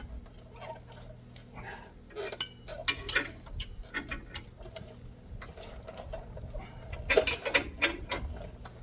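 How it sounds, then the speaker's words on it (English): A ball joint press is worked on the lower ball joint of a 1978 C10 pickup, giving close, irregular metallic clicks, ratcheting and clanks as the tool is turned. "So I got my ball joint press hooked to it."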